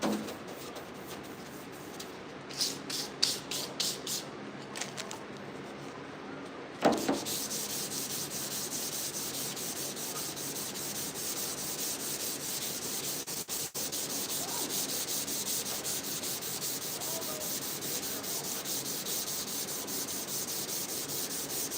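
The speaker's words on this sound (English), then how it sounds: "So we're doing this final sand in 400 because I'm using solvent-based paint." Sandpaper of 400 grit is rubbed over a 1968 C10 fender in a final sanding before solvent-based paint; after some brief handling knocks, a steady, close, scratchy rasp continues without a break.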